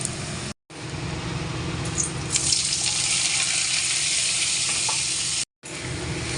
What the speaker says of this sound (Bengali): পেঁয়াজ দিয়ে ভাজবো।